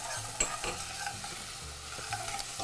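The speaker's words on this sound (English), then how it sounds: "So now that our onions and garlic are sweating along nicely" Onions and sliced raw garlic sweating in a pan: a quiet, steady low sizzle with a few sharp stirring clinks and scrapes near the start and middle, nearby and without talk.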